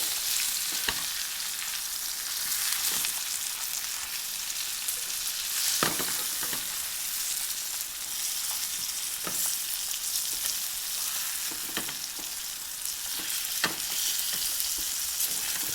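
Red snapper sizzles steadily in a hot grill pan, a constant bright crackling hiss with occasional sharper pops and spatters, close by and without any talking.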